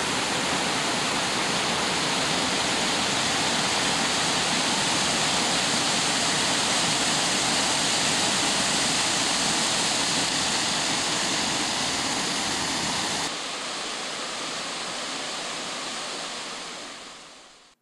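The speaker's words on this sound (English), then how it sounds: "Hopefully you can see the waterfall." Steady, dense roar of a waterfall, loud and continuous, dropping slightly in level near the end before fading out.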